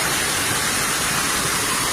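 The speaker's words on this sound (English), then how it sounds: "the rushing sounds of water is a waterfall" A waterfall at Hassen Creek pours in a steady, loud rushing hiss of falling water, unbroken and close, with no voices.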